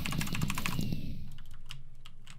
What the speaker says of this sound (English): hit the keys really fast on your keyboard while holding left click